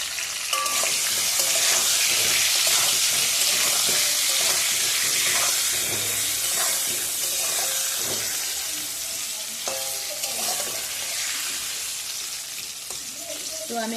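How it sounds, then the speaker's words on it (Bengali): Potatoes seasoned with salt and turmeric fry in hot oil with a loud, steady sizzle and hiss, while occasional stirring scrapes sound up close. "তো আমি একটু সময় নিয়ে ভালো করে এই আলুগুলোকে একটু ভেজে নেব।"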